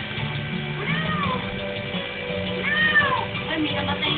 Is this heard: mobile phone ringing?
no